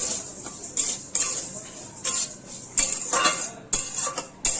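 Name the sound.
stirring rice while frying it in a wok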